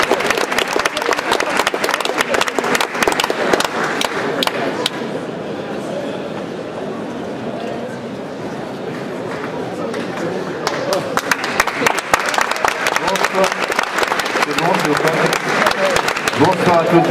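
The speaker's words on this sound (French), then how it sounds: "Vous pouvez l'applaudir." Audience applause at a science-fiction festival award ceremony on stage, loud sustained clapping from a crowd with cheers, dipping briefly midway before swelling again.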